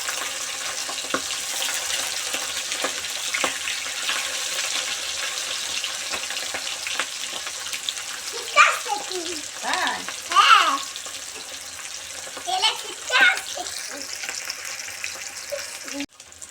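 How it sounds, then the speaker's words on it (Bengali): Hilsa fish frying in oil in a pan, a continuous crackling sizzle that runs steadily, with a few louder spits and brief voice-like murmurs partway through. "মাছগুলো ভাজা হয়ে গেছে, এবার আমি তুলে নেব।"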